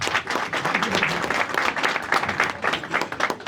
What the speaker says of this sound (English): You don't even applaud him.